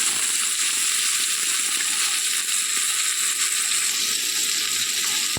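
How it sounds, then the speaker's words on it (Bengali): Tomato and onion fry in a pan with salt for a tinda dish. A constant close sizzle runs throughout, with faint scraping of stirring and no voice over it. "এবার এটাকে ভালো করে করে করে আর একটু ভেজে নেব"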